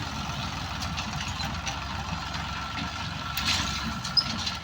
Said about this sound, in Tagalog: Bigyan muna natin ito mag-traktora